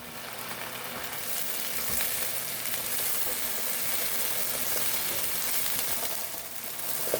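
Diced potatoes cook under a lid in a pan over lowered heat, giving a steady, even sizzle with soft crackles and a faint low hum, moderately loud and continuous with no one talking.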